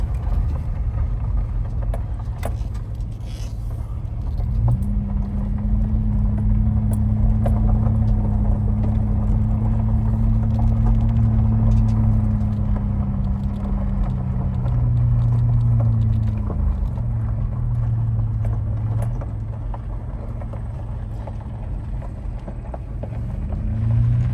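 Low vehicle engine rumble with steady drone and shifting tones as a truck drives along a hiking trail in a state forest near wind turbines, moderately loud and continuous without talk.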